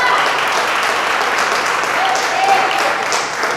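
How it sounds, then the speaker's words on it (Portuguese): Applause at a Portuguese-language church service, a dense sustained wash of clapping from a congregation, loud and steady throughout. "Você pode aplaudir ao Senhor?"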